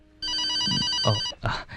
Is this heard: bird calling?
no